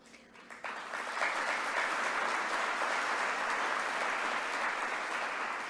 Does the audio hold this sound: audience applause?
yes